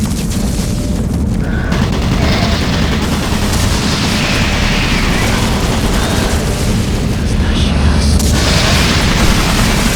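Automated turret guns in the video game Doom 3 pounding out dense, continuous rapid fire, loud and booming for the full ten seconds.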